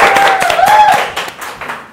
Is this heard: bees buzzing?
no